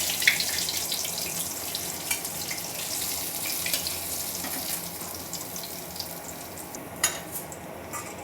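Katla fish pieces frying in oil for Bengali doi katla, a steady hissing sizzle with scattered pops and a brief clatter later on, no one speaking.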